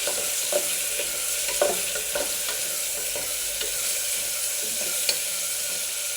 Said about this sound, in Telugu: ఇప్పుడు కొంచెం బాగా ఫ్రై చేసుకున్నాము